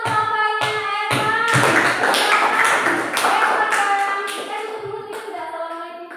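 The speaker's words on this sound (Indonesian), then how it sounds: "Kita tepuk tangan dulu kan untuk kelompoknya Erma." A classroom group claps together in a burst of applause for a presenting student group, steady and close, fading slightly toward the end.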